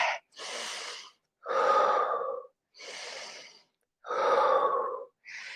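A person doing a low impact yoga leg and glute exercise takes heavy, deliberate breaths, alternating loud inhales and exhales in a slow even rhythm with short pauses, close and clear.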